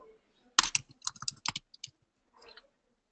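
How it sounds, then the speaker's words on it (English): A burst of computer keyboard typing comes through an open microphone in a webinar, several close, crisp key clicks in quick succession, then a short pause and a fainter few taps. "we can hear you typing"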